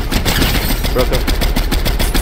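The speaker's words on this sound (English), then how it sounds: "Someone's shooting at us from the other side." Rapid Fortnite gunfire crackles in quick, loud bursts of repeated shots, with a voice talking over the shooting.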